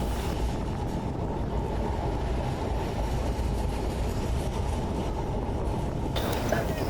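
Passenger train on the Rajbari to Mawa line easing its speed as it nears a station, heard from on board as a steady, close, loud rumble of wheels and carriage noise that carries on unbroken throughout.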